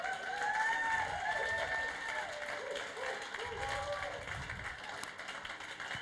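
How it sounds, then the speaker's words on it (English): Applause and cheering rise from a crowd at a World Pride 2023 event in Sydney, a steady dense wash of clapping lasting throughout, with voices and whoops mixed in. "Please give a round of applause."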